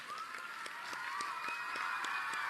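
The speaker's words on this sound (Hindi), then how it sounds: "जरा तालियों की गड़गड़ाहट जोरदार होनी चाहिए।" Applause rolls across a crowd at a sports event stage, a steady, fairly faint patter of clapping with sharper individual claps poking through, no voices over it.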